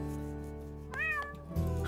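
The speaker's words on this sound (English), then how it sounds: "Excuse me, Suffy, whilst I tend to my cat." A cartoon cat gives a single clear, rising meow, close and distinct over a steady background hum, followed by a brief thump.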